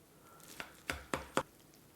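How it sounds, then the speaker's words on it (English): A knife cuts into a baked chili relleno breakfast casserole, making four faint, soft, squishy chopping taps at a slow, uneven pace in a quiet room. "So we're going to make some cuts here."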